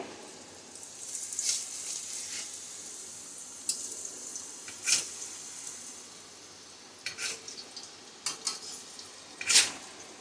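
Chakli dough spirals dropped into very hot oil, giving soft steady sizzling with a few sharper crackling bursts and clinks of a utensil against the pan, close by.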